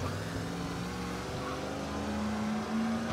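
Car engine driving in the Mafia 1 Remake video game, a steady low drone with a slight rise in pitch near the end, heard on its own.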